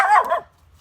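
A single short, loud dog bark rings out up close, fading quickly into near silence.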